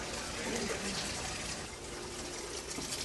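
Hot water pours and splashes over clams in a steady, close rushing gush, fairly loud and continuous, with no talk over it.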